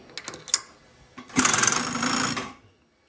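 A router with a 1/8 inch ball end mill cutting a groove in Lexan, a loud high whine lasting about a second after a few short clicks, then winding down to silence.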